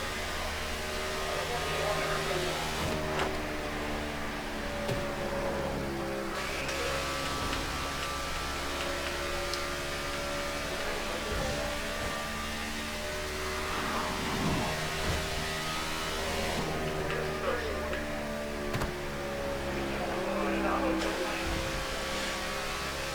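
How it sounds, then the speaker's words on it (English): Race car engine from the NASCAR '15 video game, a steady droning note that eases as the throttle lifts going into a corner, then rolls on at a lower pitch, with faint ticking and game ambience underneath. "I get out of the gas just a little bit early, going into the corner, and then let it roll through the center of the corner"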